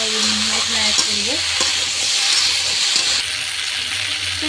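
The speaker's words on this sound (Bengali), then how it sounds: "চলো এটাকে ভালো করে কষিয়ে নেবে" Ginger-garlic paste sizzles steadily in a hot pan, a continuous frying hiss with occasional stirring scrapes close by, no voices.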